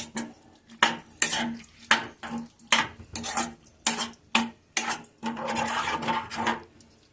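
Potato curry being stirred in a metal pan, a utensil scraping and clanking against the sides in a steady run of close, loud strokes with short pauses between them.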